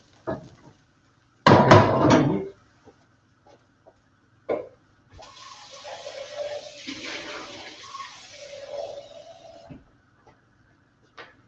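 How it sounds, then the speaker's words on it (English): Water pours into a lentil loaf mixture in a kitchen, a running splash lasting several seconds after a sharp clatter of a utensil or dish, with a few brief knocks around it. "Now it's time to add my water."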